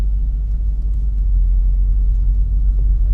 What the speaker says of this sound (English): the car is moving on its own without me using the gas pedal